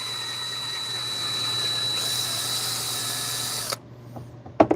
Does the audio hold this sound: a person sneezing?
no